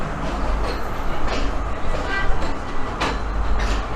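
Third-class mountain train rolling through Sri Lanka toward Ella, with a steady low rumble, rattling carriage and occasional clanks, heard from inside the carriage without talk.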